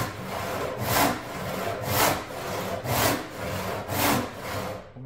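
A Western hand saw cuts through wood in steady, rhythmic strokes, about five rasping pushes with a regular pulse, close and clear with no talk.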